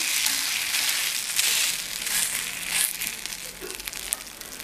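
Onion maida dosa frying on an oiled griddle right after being flipped gives a steady, close crackling sizzle with small pops and crinkles throughout.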